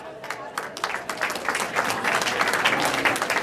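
Applause and cheering from a convention crowd at DragonFest 2016 as the Karate Kid and Cobra Kai cast walk out, steady dense clapping that swells slightly over a few seconds, with voices mixed into the crowd noise.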